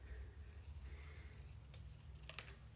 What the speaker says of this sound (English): Now your next step is to cut little leaf shapes out.